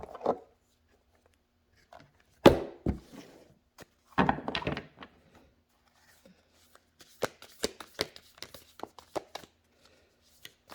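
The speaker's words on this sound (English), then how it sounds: "These cards are really big to shuffle." Oversized playing cards being shuffled, with scattered bursts of riffling and soft thumps of the deck tapping on a surface, separated by quiet pauses, close and moderately loud.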